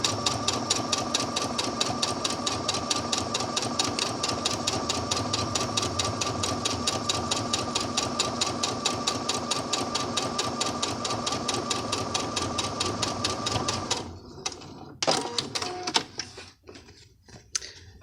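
A sewing machine stitches scallop-waisted skirt fabric in a long, steady run of rapid, evenly pulsing needle strokes, close and alone, then halts near the end as the fabric is pivoted at a corner, leaving a few scattered clicks and knocks.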